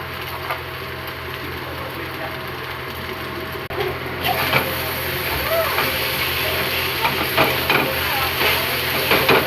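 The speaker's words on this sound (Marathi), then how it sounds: "मस्त असं परतून घेऊया." Sabudana and potatoes are stir-fried in a pan, a dense crackling sizzle with scraping stirs that grows louder midway, and a voice is heard at times over it.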